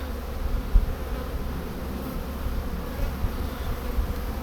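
Buckfast honeybees hum in a dense, steady buzz around a frame lifted from a weak nucleus colony, close and continuous with no voices.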